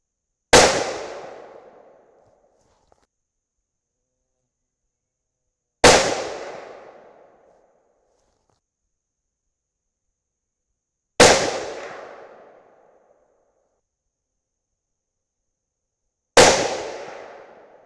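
Four loud rifle shots through a Procomp 7.62 muzzle brake on a .30 caliber rifle, each a sharp crack with a ringing decay, spaced about five seconds apart.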